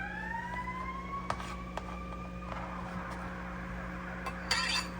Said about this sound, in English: don't worry about the ambulance.